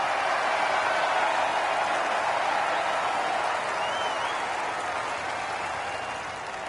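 A golf gallery applauds after a putt on the course, a dense, steady wash of clapping from a sizable crowd that holds for several seconds and then slowly fades.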